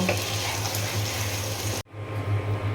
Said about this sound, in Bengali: এখন মশলার সঙ্গে ভালো করে আমি কষিয়ে নেব।